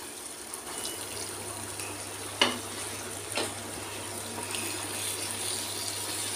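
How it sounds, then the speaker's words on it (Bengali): Warm water is poured into frying spices in a pan, a steady bubbling hiss with a couple of sharp clinks and a low hum underneath, no talking. "উষ্ণ গরম জলটা আমি এর মধ্যে এবার মিশিয়ে দেবো।"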